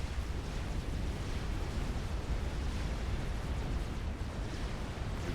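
A super nuke launches in the strategy game Supreme Commander with a steady, loud, roaring rumble that fills the whole stretch without a break, like a sustained blast or engine burn.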